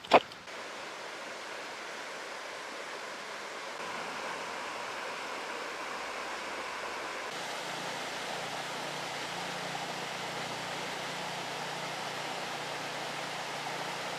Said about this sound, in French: Je la voyais un peu plus grosse cette cascade quand même.